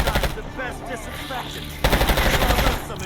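Rapid automatic gunfire from Call of Duty Black Ops 6 in bursts, with a louder, denser barrage in the second half and brief talk near the start.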